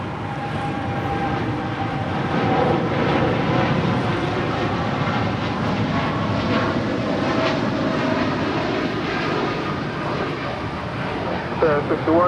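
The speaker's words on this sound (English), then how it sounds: "Japan Airlines Flight 61 now rolling on 25 right. It's a 787-8 Dreamliner taking off to Tokyo Narita." A Japan Airlines Boeing 787-8 Dreamliner rolls for takeoff on runway 25R at LAX bound for Tokyo Narita, its engines a loud, steady, broadband roar that holds for the whole stretch with a faint radio voice underneath.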